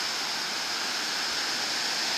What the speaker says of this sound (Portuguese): pouco perigosa essa praia, devido às altas ondas que quebram.